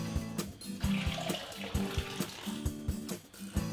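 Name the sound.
straining liquid from homemade tofu curds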